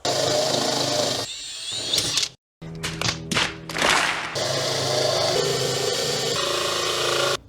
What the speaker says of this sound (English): Let's drill the spot welds out.